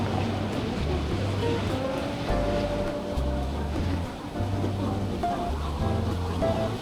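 Surf washing in at Kuta Beach, Bali, after strong winds, a steady loud roar of breaking waves with low rumbling surges and wind noise, no talk.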